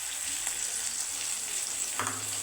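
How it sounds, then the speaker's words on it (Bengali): Eggs and vegetables fry in a pan for egg chow mein, giving a steady, fairly quiet sizzle throughout, with a brief scrape or stir near the end. "এগুলো খুব সুন্দর ভাজা হচ্ছে"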